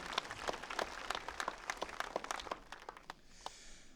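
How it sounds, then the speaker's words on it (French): Audience applause at an evening presentation of a municipal election list, a crowd clapping with scattered sharp claps that thin out toward the end. "Je pense qu'on peut applaudir là aussi"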